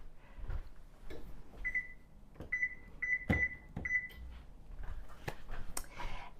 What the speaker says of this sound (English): we're going to preheat our oven to